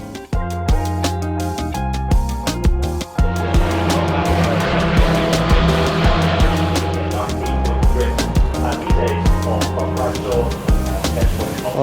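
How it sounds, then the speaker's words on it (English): Porsche race cars running on the Brands Hatch circuit, a steady loud engine drone with rising and falling revs as cars pass, growing busier and louder after a brief dip near the start, with faint voices in the background. "Alright, well the Porsche's on track."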